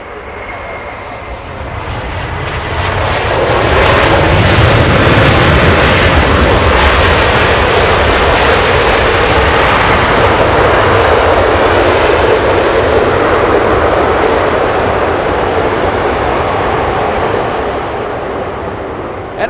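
British Airways Speedbird 269 airliner touching down at LAX: loud jet roar swelling quickly, holding powerfully through the rollout, then easing slightly near the end.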